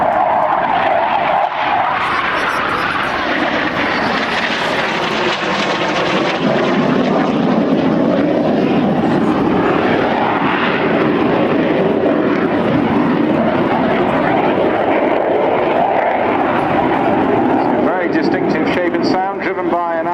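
An L-159A ALCA light jet with an AlliedSignal ITEC F124-100 turbofan passes at the Yeovilton air show, a loud sweeping roar that rises and falls as it flies by, with a commentator speaking over it.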